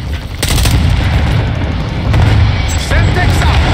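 A stun grenade detonates in Call of Duty MWII multiplayer, a loud blast burst amid dense ongoing gunfire and explosions, with a high ringing whine and further loud bursts layered over a constant rumbling battle din.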